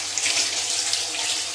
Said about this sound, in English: You know how to wash hand at least?